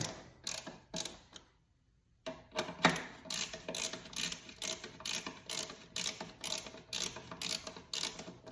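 A hand ratchet snugs up bolts on a 2024 Harley-Davidson lower fairing, clicking in rapid, even bursts close by, with a short pause early on before the steady ratcheting strokes resume.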